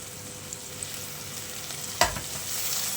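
Green chillies, peas and tomato sauté in a pan for veg pulao, a quiet continuous sizzle with one sharp clack of a spoon against the pan midway, no talking.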